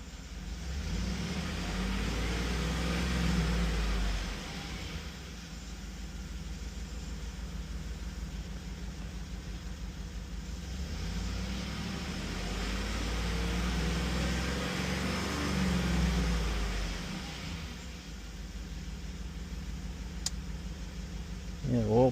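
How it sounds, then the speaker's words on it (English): A 2007–2014 Chevy Tahoe with a 5.3L V8 idles steadily after an oil change, a low, close rumble with a couple of swelling revs rising and easing back to idle. "I always like to give it a rev or two."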